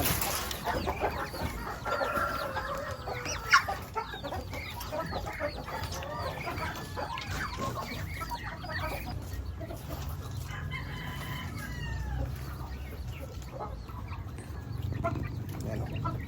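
Rhode Island Red, Mahogany and Brahma chickens cluck and murmur around a farmyard at feeding time, with a rooster crowing early on and scattered bird calls continuing throughout.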